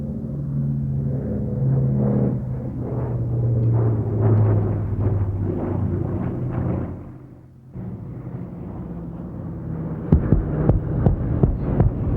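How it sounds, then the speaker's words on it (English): A Pratt & Whitney-powered A-26 Invader makes a flypast at an air show, its radial engines a deep, throbbing drone that swells and passes, dips briefly, then returns with crowd noise. "Horsepower Pratt & Whitney, dependable engine. The A-26 Invader."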